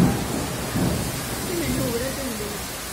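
A downpour during a stormy night keeps up a dense, steady hiss close by, with low thunder-like rumble underneath and faint voices mixed in.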